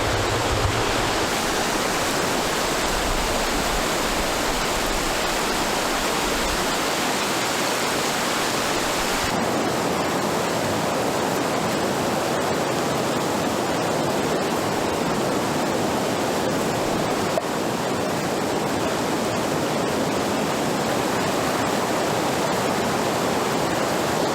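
Steady rushing creek water flows continuously close by, a dense unbroken wash of sound with no voices, near Brainard Lake.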